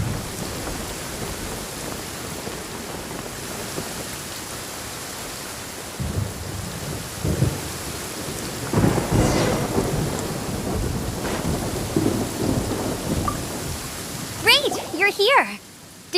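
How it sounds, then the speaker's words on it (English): A thunderstorm with rain in the Genshin Impact video game: steady rainfall hisses throughout while low thunder rumbles swell and fade, and a short voice-like sound comes near the end. "Please stay indoors until the storm passes."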